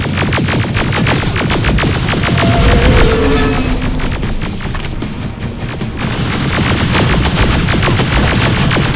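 Rapid automatic gunfire in Terminator: Resistance, loud continuous bursts of shots with heavy booms mixed into a dense battle din.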